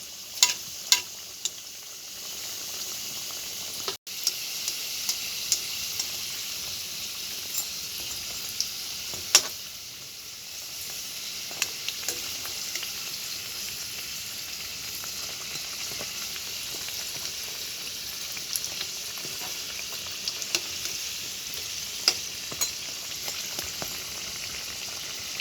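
Potato-stuffed puri fry in hot oil, with a long, steady, close sizzle and frequent sharp pops and crackles as oil is spooned over the top, and no voices.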